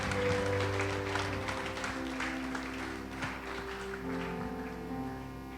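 Applause from a church congregation, a steady wash of clapping over sustained musical tones, gradually thinning out.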